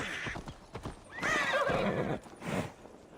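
A horse in the video game Assassin's Creed Valhalla clip-clops its hooves and lets out a loud whinny, with a second shorter neigh following, close and clear over a quiet background.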